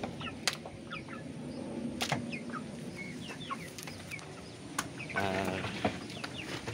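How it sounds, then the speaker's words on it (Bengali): Big farm chickens kept for sale in a shed bedded with rice husk cluck and squawk repeatedly at close range over steady barnyard murmur, with several sharp louder calls standing out. "এগুলি হচ্ছে বড় মুরগি"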